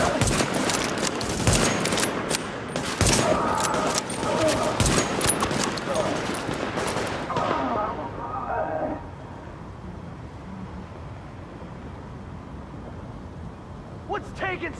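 Heavy gunfire in The Division, sustained bursts and sharp shots crackling for several seconds before dropping away to quieter ambience, with a brief late flurry.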